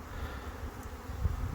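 Honey bees in a Langstroth hive colony of around thirty thousand, a soft continuous low buzzing drone, steady and faint, heard up close with no talking.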